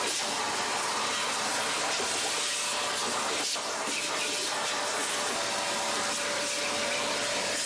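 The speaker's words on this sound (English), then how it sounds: "Take and throw this away and give this a good vacuum." A vacuum cleaner runs steadily and loudly the whole time while cleaning the lint filter area of a clothes dryer, a continuous broadband roar with a faint hiss and a brief dip midway.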